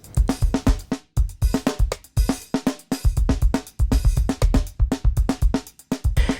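A programmed drum pattern plays a steady, punchy paradiddle run on kick and snare, the alternating hits tight, loud and evenly spaced.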